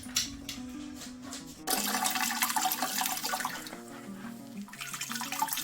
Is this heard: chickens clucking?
no